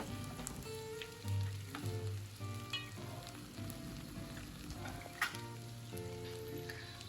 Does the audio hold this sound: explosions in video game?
no